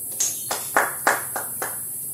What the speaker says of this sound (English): a round of applause for group 2